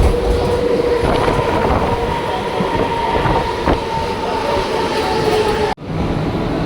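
A fully air-conditioned Mumbai suburban electric local train rumbles steadily along with a continuous hum and faint track clatter, then a brief sharp break near the end before the noise resumes.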